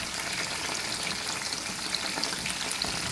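Chicken Manchurian pieces frying in oil over a medium flame, a dense, even crackling sizzle that holds steady and close throughout without any talk.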